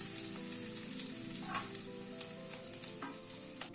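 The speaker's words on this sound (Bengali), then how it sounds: "পনিরটাকে একটু হালকা করে ভেজে নিয়ে তুলে নিচ্ছি।" Paneer fries lightly in hot oil, a steady close sizzle with a few soft stirring scrapes over it and no voices.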